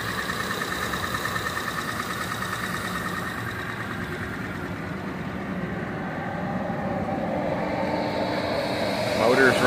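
A Roskamp 9x30 two-pair roller mill runs with a steady, smooth mechanical drone and motor hum, continuous and fairly close, swelling slightly toward the end.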